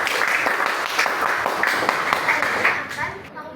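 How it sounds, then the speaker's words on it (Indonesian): Classroom applause for a presenting student group: a fairly close, moderately loud round of clapping with voices mixed in, tapering off at the end. "Tepuk tangan kita kasih ke kelompok 6."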